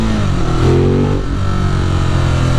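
Loud, steady engine note from a 2018 Ducati Monster 821 motorcycle on a New York City street, with a brief rise in revs partway through and continuous throttle, close and without talk.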